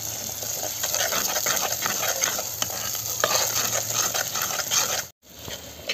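Village-style chicken curry sautéing in hot oil, a dense close sizzle with rapid stirring scrapes and clinks, briefly cutting out near the end before resuming, no voices.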